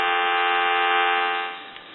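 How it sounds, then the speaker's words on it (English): A steady payphone dial tone hums continuously, close and clear, then dips slightly in level near the end. "We'll give you some dial tone."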